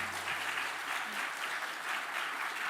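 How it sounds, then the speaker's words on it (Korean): Steady applause from a church congregation during a morning service fills the whole stretch, dense and continuous clapping without pause, fairly even in loudness. "우리 박수 부탁드리겠습니다"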